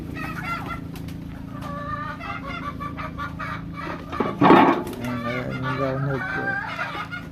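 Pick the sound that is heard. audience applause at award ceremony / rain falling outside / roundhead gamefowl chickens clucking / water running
roundhead gamefowl chickens clucking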